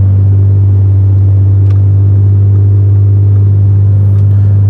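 An Audi with aftermarket headers and resonated mid-pipes cruises in 8th gear at about 2,000 RPM, heard from the cabin as a loud, constant low exhaust drone and rumble that stays steady throughout.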